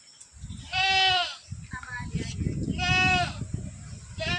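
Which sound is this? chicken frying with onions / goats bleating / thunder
goats bleating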